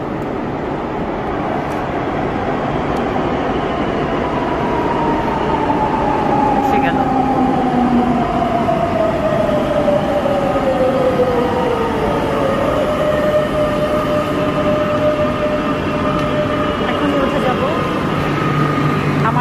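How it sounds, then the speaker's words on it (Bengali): A Madrid metro train pulls into a station with a loud, continuous rumble, squealing brakes gliding downward in pitch and a steady roar that fills the whole stretch. "আমি এখন ট্রেনের শব্দ পাচ্ছি, ট্রেন এখনই আসবে, একদম এখনই ঢুকবে"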